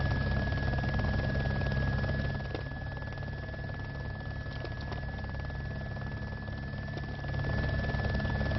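MH-6 Little Bird helicopter in Arma 2, a steady droning rotor and engine hum with a fixed whine, continuous and even throughout, slightly louder at the start and end, with no voices.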